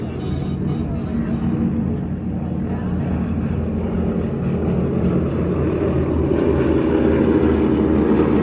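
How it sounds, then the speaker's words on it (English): A P-51 Mustang's propeller at an airshow gives a loud, steady, throbbing drone with a low rapping buzz that holds through the whole stretch. "The rapping sound that you hear is from the propeller, believe it or not"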